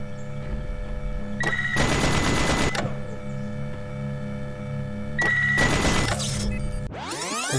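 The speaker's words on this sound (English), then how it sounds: "So this one shoots me in my head." Turret fire in The Talos Principle comes in two loud, dense bursts of rapid shots, each lasting under a second over a steady electronic game hum, followed by a rising swoosh at the end.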